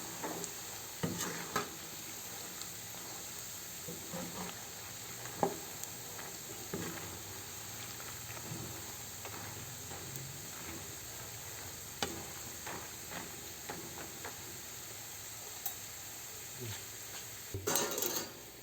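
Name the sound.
stirring adobong mani (peanuts) frying in a pan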